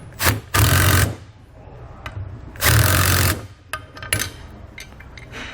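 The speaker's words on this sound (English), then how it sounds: "We'll then tighten it down using a 9/16 socket." A 9/16 socket tightens a bolt on a SumoSprings helper spring setup on a 2019 Fleetwood motorhome, heard as two loud sustained ratcheting bursts with lighter clicks and clanks between them, close up, with no voices.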